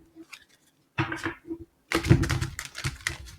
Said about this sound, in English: All right, I'm going to shuffle these.